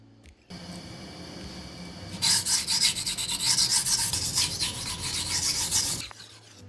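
The damaged edge of a well-used ten-year-old kitchen knife blade is ground down, starting with a quiet rub, then loud rough rasping strokes that run for several seconds before stopping abruptly.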